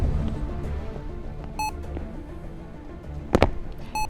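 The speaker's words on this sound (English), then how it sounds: "what is beeping?" An electronic device beeps a few times, short tonal bleeps with high harmonics, first faintly then more clearly near the end, over a muddy background of low rumble and ambient noise.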